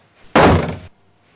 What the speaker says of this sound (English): say during this fight you grab him, you want to do a headbutt